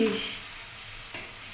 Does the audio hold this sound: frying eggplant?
yes